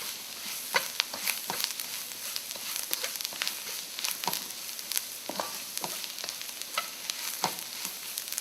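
Fish masala with black pepper frying in a pan for Kerala meen pollichathu, a soft steady sizzle broken by scattered sharp scrapes and taps of a spoon stirring, close and unaccompanied.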